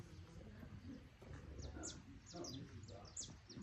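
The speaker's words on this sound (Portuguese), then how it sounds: "deixa vocês ouvirem os passarinhos" Birds chirp outdoors in pitch darkness, small high tweets scattered across a noisy, hissing background, faint and distant, with murmuring voices and movement sounds nearby.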